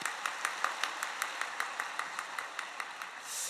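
A church congregation at a Yoido Full Gospel Church Sunday service applauds a choir, a steady run of fairly faint hand claps in an even rhythm, heard from a distance in a large reverberant hall, with no voices over it.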